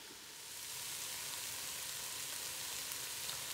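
Garlic and green onions sizzle steadily in a pan, a soft, even, continuous frying hiss with fine crackle and no talk.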